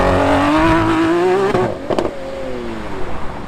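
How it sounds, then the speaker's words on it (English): A Lamborghini Aventador SVJ supercar drifting sideways, its engine loud and near with a rising, wavering rev that drops off, followed by a sharp burst and rougher engine rumble. "just look at how these cars are going sideways"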